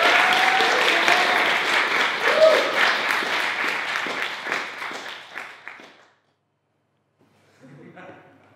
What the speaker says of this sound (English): can we give a huge round of applause, a huge welcome to Joshua